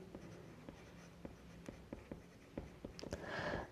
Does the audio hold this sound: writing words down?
yes